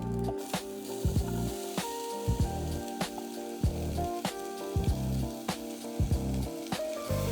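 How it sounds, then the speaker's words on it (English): Onions hit a hot pan and sizzle in a steady, loud hiss that fills the whole stretch, with light regular clinks from stirring in the pan. "we're gonna go ahead and add in our onions"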